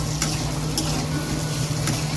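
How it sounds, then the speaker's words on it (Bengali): Potatoes and onion sizzle in a hot pan, a steady frying crackle with a few scraping stirs of the spatula cutting through at intervals, close and continuous. "আলুটাকে ভালো করে ভাজা ভাজা করে নিই"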